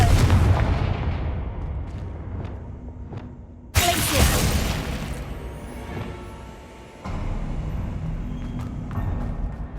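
Fiery Confringo spell blasts in the Hogwarts Legacy game, a loud sudden explosion midway followed by rumbling debris and further booming impacts, with earlier softer thumps.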